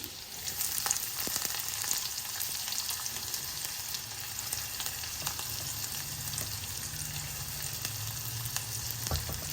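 Onions frying in a pan, a dense continuous sizzle with scattered crackles and pops, close and steady throughout, no voices.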